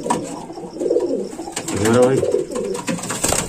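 Shahjahanpuri cross pigeons coo in a close, throaty burst midway, with softer bird murmurs around it while someone talks over them.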